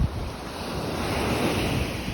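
Steady roar of sea surf and gusting wind on a coastal spit beside an old shore fort, continuous and fairly loud with a broad wash of breaking water and wind buffeting the microphone throughout, no voices.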